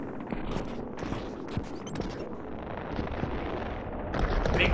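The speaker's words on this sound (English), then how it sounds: "that was a hell of an explosion as well" Explosions and rapid gunfire from the video game Utopia Must Fall, a continuous dense barrage of blasts and shots with booming low rumbles, swelling louder near the end.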